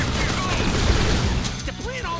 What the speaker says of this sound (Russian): Короткими очередями бьет эта пушка почему-то.